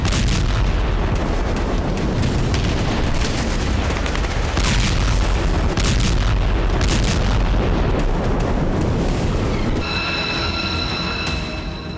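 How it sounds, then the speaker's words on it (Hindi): US airstrikes pound targets around Sanaa and Saada in Yemen. A dense, continuous barrage of heavy booms and rumbling blasts runs for the whole stretch, loud and thick with low-end roar and no voices. "अमेरिकी वायुसेना ने यमन की राजधानी सना और सादा के आसपास जबरदस्त बमबारी की"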